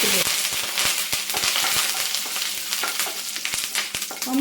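Curry leaves and dried red chillies hit hot oil with a loud, dense crackling sizzle, sharp pops scattered throughout the steady spitting.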